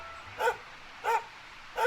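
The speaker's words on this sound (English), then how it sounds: "Who are you barking at, doggy?" A dog in the Dragon Quest XI role-playing game barks three times at an even pace, short clear yaps with quiet gaps between them and no talking.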